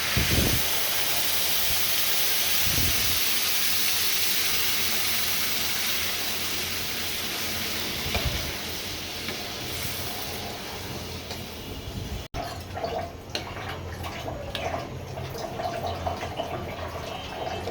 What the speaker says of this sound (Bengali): এখন পরিমাণ মতো পানি দিয়ে দিচ্ছি।